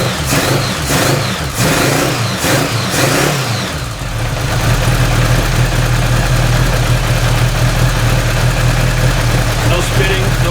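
A car engine fitted with a single carburetor after a cold start, revving in short bursts at first, then settling into a loud, steady idle with a constant low rumble.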